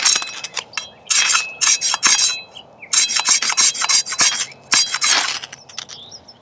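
Repeated scraping strikes of a ferro rod against a Condor Big Leaf machete to light a fire outdoors, loud rasping bursts coming in quick clustered runs.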